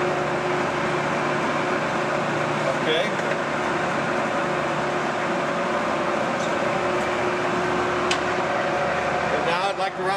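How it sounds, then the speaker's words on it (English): An American heavy-duty 19 x 64 inch lathe runs its cross-slide and carriage feeds, giving a continuous, even mechanical hum with faint clicks, while someone briefly speaks over it. "Cross slide feed, feeding in, and carriage feeding towards the tailstock."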